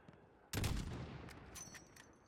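Gunfire in Call of Duty Modern Warfare bursts in suddenly after a near-silent moment, a loud close volley that rolls on and slowly fades.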